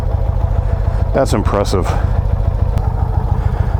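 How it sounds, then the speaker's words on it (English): A 2019 Indian Chieftain Limited motorcycle with stock exhaust idles close by, its steady low, rhythmic throb running the whole time beneath a man's brief remark. "this is the stock exhaust, so maybe because it's kind of quiet at idle, I'm not noticing it"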